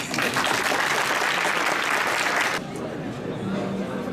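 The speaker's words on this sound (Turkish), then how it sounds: "Alkışlamaya devam ediyoruz." Audience applause at a design department's year-end exhibition, loud dense clapping for about two and a half seconds before dropping to a softer, thinner patter of a few hands.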